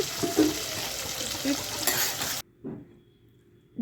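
Onion, green chilli and tomato sauté in a pan for a tomato bath breakfast, giving a steady sizzle and stirring clatter that stop abruptly partway through.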